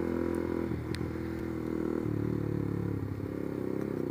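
A fuel-injected Suzuki Satria FU motorcycle with a short-filter race exhaust idles in a steady, throaty low rumble that holds close and even throughout, with no voices.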